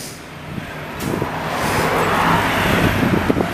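A heavy garbage truck rumbles past nearby on a street in St. Lambert, Quebec, in freezing winter weather, its low engine drone swelling and lingering with road noise, no voices.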